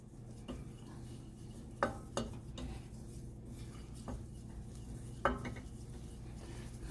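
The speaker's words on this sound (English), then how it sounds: "Start stirring." Flour being stirred into a dough in a pot over a low flame: soft, continuous scraping and stirring with occasional sharp clinks of a utensil against the pot, faint and close with a light sizzle beneath.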